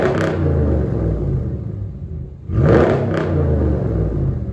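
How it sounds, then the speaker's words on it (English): Straight-piped exhaust on an RT truck revving hard, a loud close rumble that surges, dips briefly, then climbs again with a throaty roar and no voices over it. "so I'm gonna show you guys the exhaust. Like I said, it's nothing but a straight pipe. I mean, it still sounds kind of mean."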